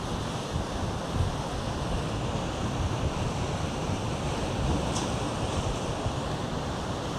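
Ocean surf at a Hawaii shoreline at sunrise, a steady, loud wash of breaking waves with continuous wind rumble on the microphone and no clear separate splashes.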